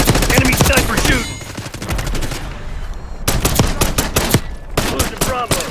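Rapid bursts of gunfire in a Black Ops 6 multiplayer match, dense and loud, with a brief lull partway through before another string of close, sharp shots.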